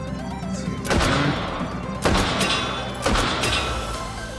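A semi-automatic sniper rifle chambered in 7.62x54mm fires three loud, booming shots about a second apart, each with a sharp crack and a rolling tail, on a modern-day range in the VR shooting game H3VR.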